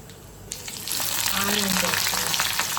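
Tempering spices sizzle in hot oil, a dense close crackle that swells after a quiet start and holds steady, with faint clinks of utensils.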